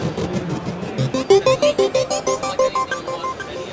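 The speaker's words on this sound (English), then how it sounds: "There is a killer arpeggiator in here." A Korg microKORG XL synthesizer runs its arpeggiator with wave shaping, playing a quick, steady run of bright, buzzy synth notes that climb and fall in pitch, loud and close, with no talking.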